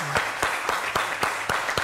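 A live audience breaks into applause during a celebrity apology broadcast, with sharp claps landing in a steady rhythm about every quarter second, close and fairly loud.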